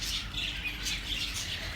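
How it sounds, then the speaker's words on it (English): Small birds chirp and tweet in a park, high bright calls repeating in quick scattered bursts over a soft outdoor background, fairly faint with no talking. "Today we're going to be at the park, just looking at the birds, just staring at the birds in the park."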